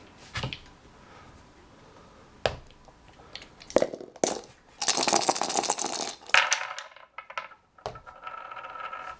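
Dice clatter and tumble in a dice tray through several separate rolls, sharp clicks and rattling bursts spaced apart with quiet gaps between, heard up close with no talking.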